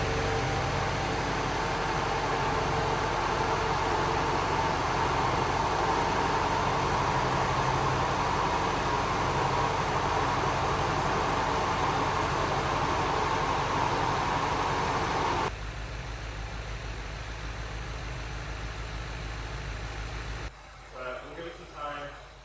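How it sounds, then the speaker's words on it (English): A BMW G12 750 V8 idles steadily after startup, a loud, even engine drone with broadband hiss that continues throughout, then drops to a quieter hum near the end with a brief faint rustle. "I'll leave the microphone here just so we can hear the startup"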